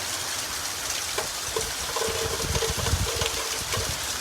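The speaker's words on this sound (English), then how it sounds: "now we're experiencing a thunderstorm" Steady heavy rain pours down in a thunderstorm, a dense hiss of water with scattered louder splashes and drips close by, continuous throughout.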